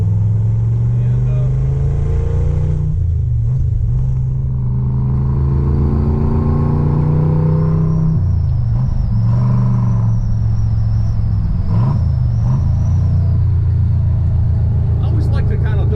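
An all-original 1967 Corvette Stingray coupe with side pipes and a Muncie M21 close-ratio 4-speed rumbles loud and deep while driven, the engine pitch dipping and rising through double-clutch downshifts as someone talks over it.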